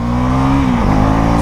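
A 2024 KTM Duke 390 motorcycle pulls away in first gear, its engine note close and loud as it revs up briefly with a sharp rise in pitch.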